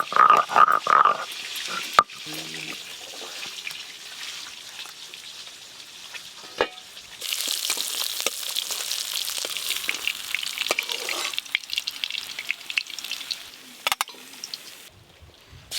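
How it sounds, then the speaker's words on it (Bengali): Fish fries in a pan for a golden fish curry, with faint clatter early on before a loud, close, continuous crackling sizzle takes over. "এই মাছগুলো ভেজে নেব।"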